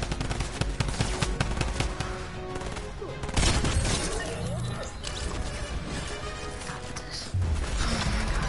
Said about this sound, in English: Oh no, I hear drum gun.